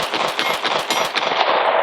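A Glock 43x pistol fires NATO-spec ammunition in a rapid string of sharp, evenly spaced shots, loud and close.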